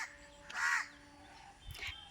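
A crow caws twice in a home garden with trees, two harsh calls about a second apart, moderately close against quiet outdoor background.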